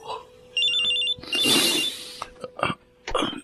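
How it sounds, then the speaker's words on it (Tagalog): A mobile phone rings with a pulsing electronic tone. A rustling burst and a few sharp knocks or movement noises follow close by. "Ang cellphone ko."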